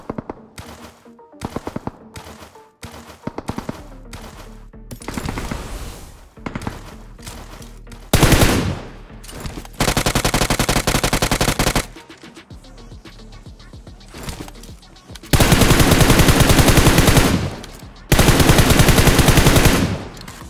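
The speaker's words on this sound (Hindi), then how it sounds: "और इस पहाड़ी पे गोली चल रही होती है" Rapid automatic gunfire in BGMI (PUBG Mobile) crackles in long sustained bursts between scattered single shots, loud and close, with no voices.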